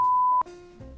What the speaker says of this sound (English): I still haven't mastered where the beep sound is, or the bleep sound.